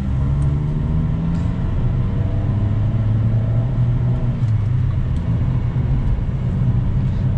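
A blue Chevrolet Vectra GT-X with 140 hp and a newly fitted gearbox cruises in fifth gear on the road. Its engine holds a steady, droning rumble at low revs, heard from inside the cabin with road noise and no talk.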